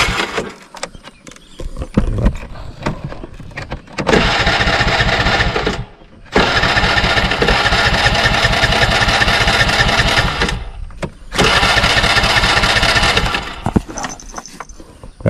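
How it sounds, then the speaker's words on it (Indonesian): A motorcycle engine is cranked and fired on a mountain outing, with carburetor flooded by spilled fuel, giving bursts of rough, loud engine running with brief gaps between attempts. "Coba aku start lagi, mudah-mudahan bisa guys ya."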